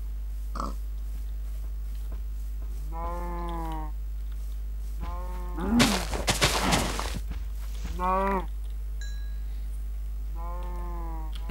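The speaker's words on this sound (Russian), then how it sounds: "Ничего себе, сколько тут коров." Minecraft cows let out several drawn-out moos, with a burst of game noise and scuffling in the middle, all over a steady low hum.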